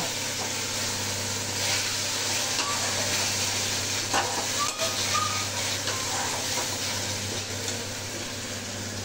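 Onion, ginger and garlic paste frying in a pan for a home-cooked dish, giving a steady, close sizzle with occasional stirring scrapes over a low constant hum, with no voices.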